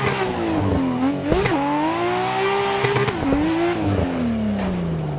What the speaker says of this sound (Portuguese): Tô tentando jogar de lado o máximo de curvas possível